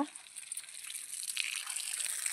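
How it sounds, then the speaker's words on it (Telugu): Water splashes and gushes onto the soil of a young curry leaf plant in a short, continuous pour, close by and fairly soft. "ఈ చెట్టుకి డే బై డే అన్నా నీళ్ళు పోస్తావు కదా"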